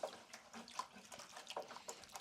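Bonsai tree roots are swished around in a container of water, making quiet, irregular sloshes and trickles, close by and faint.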